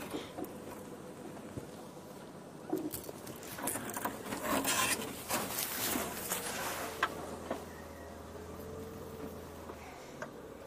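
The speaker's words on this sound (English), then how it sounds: "Sorry about the scraping." Rough scraping and rubbing against a vehicle during a sunrise safari drive, in uneven bursts that peak midway, with a low engine hum underneath.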